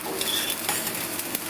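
Flattened rice (poha) dry-roasting in a pan while a spoon keeps stirring it, giving a steady close scraping and rustling hiss with small clinks throughout.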